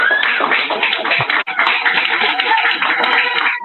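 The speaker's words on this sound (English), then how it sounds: "I know they're cheering, buddy. They're excited." A large crowd at a draft event claps and cheers in a dense, steady roar of applause that carries on throughout, broken only by a brief dip.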